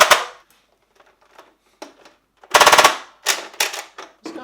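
A modded Nerf Ultra Destiny blaster fires darts in rapid bursts, loud and close, with sharp clattering rattles in short runs separated by brief gaps and faint mechanical clicks between them.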